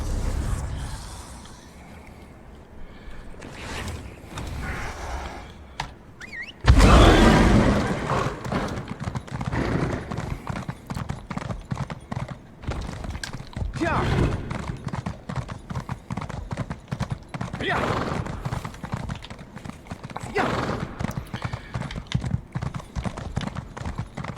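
Steady clip-clop of a horse's hooves as a mount is ridden in Elder Scrolls Online, a continuous fast rhythmic trot running throughout with a sharp jump in loudness partway, occasional faint snorting mixed in.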